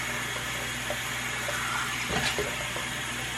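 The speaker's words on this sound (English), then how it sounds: "we're gonna run the water and just rinse our face with it" Tap water runs steadily into a bathroom sink while a face is rinsed, a constant close splashing wash with a brief louder splash near the middle.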